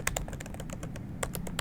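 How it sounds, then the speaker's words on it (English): Quick, close keystrokes on a computer keyboard, mostly repeated taps of the tab key, form an uneven run of about a dozen crisp clicks with no voice over them. "you can hit tab 6 times on your keyboard"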